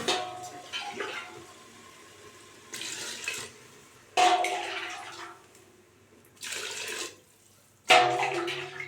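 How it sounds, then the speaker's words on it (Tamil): Water poured into a cooking pot for tomato rice in several separate bursts, each a splashy rushing pour that starts loud and tapers off, with quiet gaps between them. "3 கப் தண்ணி சேர்த்துக்கிறேன்."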